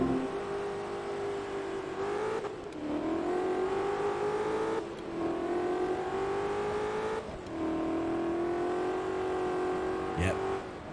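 A Shelby Cobra racing in Forza Motorsport 2 during a factory-spec race: the engine revs up through the gears in repeated rising pulls, dipping briefly at each shift, loud and close, with a short tire or impact noise near the end.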